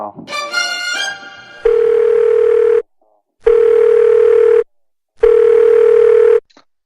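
Repeating telephone ringback tone while a call is being placed: three long steady tone bursts with silent gaps, loud and clear, preceded by a brief jumble of other sound.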